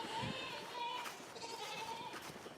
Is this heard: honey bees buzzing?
no